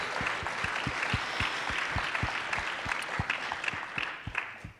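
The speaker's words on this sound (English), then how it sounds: "So give yourselves a big round of applause" An audience at a go-go music performance and education series applauds, a full wash of clapping with a few sharp, distinct claps standing out near the front throughout.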